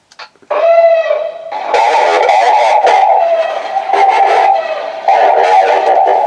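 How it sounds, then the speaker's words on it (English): A Death Trooper voice effect loop from a TRamp Trooper Amp comm system starts with a brief electronic tone, then turns into loud, continuous crackling radio-style garble that carries on throughout. "And this is what the troop loop for the Death Trooper sounds like."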